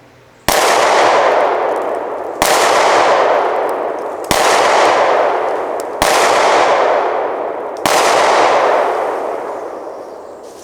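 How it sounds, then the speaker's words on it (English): Five loud pistol gunshots fired at a target about 25 yards away, evenly spaced roughly two seconds apart, each a sharp crack followed by a long echoing decay outdoors, with no talking. "I'm going to try to hit that with like 5 rounds. I'll give myself 5 rounds to hit it from about 25 yards."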